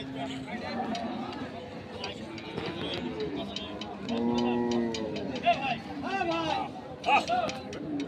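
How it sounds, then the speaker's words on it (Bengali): Indian bullocks at a busy livestock market bellow with several drawn-out, rising moos, close by, amid chatter and general crowd noise. "আমরা দেখছি বলদ দুটিকে আমরা একটু ভালোভাবে আপনাদের দেখিয়ে দিই"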